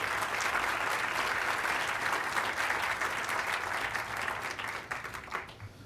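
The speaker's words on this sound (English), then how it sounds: "Can they stand and give them one more round of applause?" An audience at a mayor's inaugural speech event gives a sustained round of applause for regional mayors, a dense wash of clapping that thins and fades toward the end.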